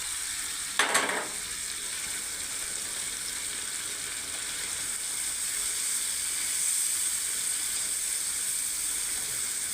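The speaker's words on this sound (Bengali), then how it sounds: "এটা একটু ভালোভাবে কষিয়ে নেবো" Prawn curry masala sizzles steadily in a hot pan with a constant bright hiss, and a brief spoon scrape early on marks a stir.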